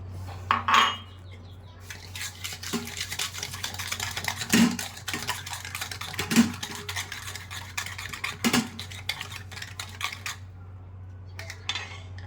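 A spoon stirring sugar into milk in a metal bowl for egg pudding, with steady scraping and irregular clinks against the sides over a low electrical hum, with no talking.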